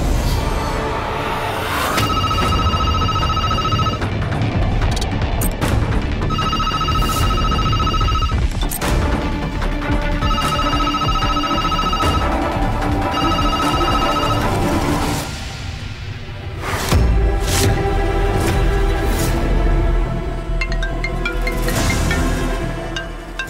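A telephone rings repeatedly in bursts over a loud, continuous background of music and sound effects, and briefly pauses before ringing continues.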